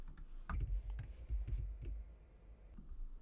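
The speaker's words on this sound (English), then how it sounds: "Then I am just going to type in the letter A." Soft keyboard key presses, a handful of quiet close clicks in a loose irregular rhythm as letters are typed at a computer for Cricut cutting, faint and without talk.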